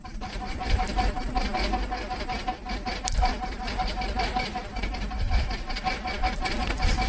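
A sewing machine slowly stitching a neck design on a garment, giving a steady, continuous mechanical rattle of the needle close by, with someone talking over it.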